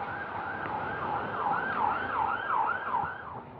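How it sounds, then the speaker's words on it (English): A wailing siren rises and falls in a steady repeating cycle, moderately loud over low traffic rumble, with no voices. "And a lot of sirens."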